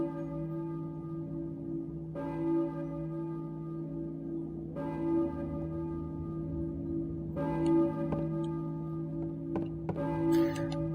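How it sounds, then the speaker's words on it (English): Church bell tolling in the Silent Hill video game, four slow resonant strikes spaced evenly a few seconds apart, each ringing out with a long humming decay over a low steady drone. "I hear a church bell, maybe? Who's ringing the bell?"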